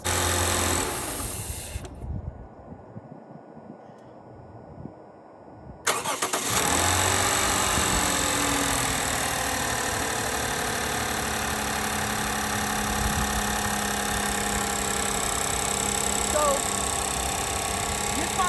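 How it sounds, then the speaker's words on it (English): A 2014 Lexus IS 250 F-Sport with a newly installed air intake cranks and fires up after a quiet pause, then settles into a steady, loud idle close by. "So I'm gonna crank it up, see what it sounded like"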